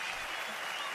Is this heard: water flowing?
no